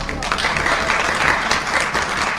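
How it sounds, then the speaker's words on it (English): A crowd meets a proclamation about rebuilding the temple on the Temple Mount with sustained, fairly loud applause. The clapping stays dense and continuous for a couple of seconds. "And so that proclamation was met with applause."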